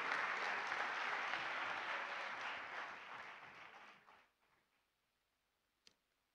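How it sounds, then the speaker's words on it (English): Applause for award finalists at a policy forum ceremony: dense clapping from an audience that fades out over about four seconds, then near silence with one brief click. "please, a big round of applause to our finalists for this category"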